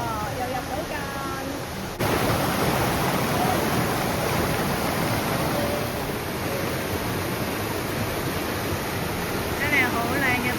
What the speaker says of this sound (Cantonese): 真係好靚嘅瀑布啊！